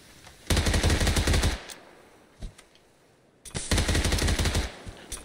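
Two long bursts of rapid automatic gunfire in a video game, loud and close, separated by a quiet gap with a couple of isolated clicks and single shots.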